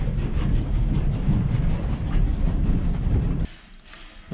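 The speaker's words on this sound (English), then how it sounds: "the Strasburg Railroad" Strasburg Railroad train riding along the tracks in Lancaster County, a steady loud rumble of wheels and carriage that drops off abruptly near the end.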